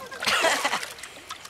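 Cartoon splash of someone falling into river water: a burst of noisy sloshing and splatter that trails off into lighter dripping, fairly close.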